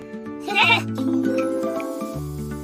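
A goat bleats once in a loud, wavering, nasal cry that swells and then holds a lower tone until the end, with no other sounds around it.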